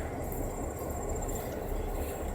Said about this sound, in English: the conductor climbs onto the rear ballast hopper and the train reverses to couple up with the rest of their train